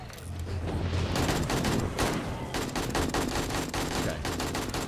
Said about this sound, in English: I think it's getting shot by the nurse.